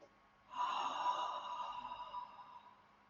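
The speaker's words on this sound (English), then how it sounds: "Think of that same restriction down the back of your throat, but close your lips as you exhale. We call it Darth Vader breathing." Ujjayi breath, a long restricted throat exhale through closed lips like fogging a mirror, one sustained hollow rushing breath lasting about two seconds that fades gradually, close and alone in a quiet room.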